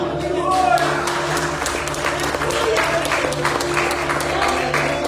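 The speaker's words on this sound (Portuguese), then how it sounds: "Aplauda ele mais forte" Steady applause from a church congregation during a service fills the space, with a held musical tone and some voices mixed underneath.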